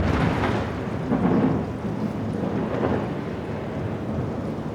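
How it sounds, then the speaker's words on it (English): A thunderstorm with heavy rain, steady and loud throughout, with broad rolling rumbles of thunder swelling and fading over the downpour, heard in Shikoku, Japan. "There's currently a lightning storm going on."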